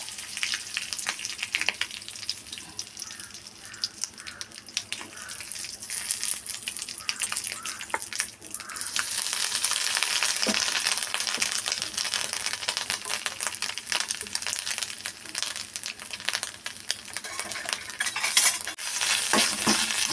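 A pan of tempering for pumpkin erissery sizzles steadily for a long stretch, rising louder midway, with scattered clinks and scraping of a utensil against metal.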